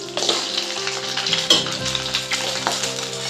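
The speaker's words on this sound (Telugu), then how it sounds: "పల్లీలు కొంచెం వేయాలి కదా అవి కొద్దిగా ఫ్రై కాగానే మనం శనగపప్పు కూడా వేసేద్దాం కొంచెం ఫ్రై కావాలి" Peanuts and chana dal fry in hot oil for lemon tamarind rice, a loud close crackling sizzle with scraping stirs and a sharp clatter midway, no talking.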